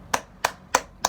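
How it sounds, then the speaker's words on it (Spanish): Four sharp hand claps at an even, moderately quick rhythm, close and dry, with no voices. "aplaudiendo, estoy expresando que me está gustando lo que estoy viendo"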